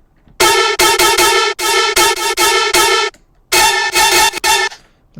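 The main lead synth of a hybrid trap song plays loud, bright, buzzy notes in short rhythmic stabs, grouped into phrases with brief gaps between them.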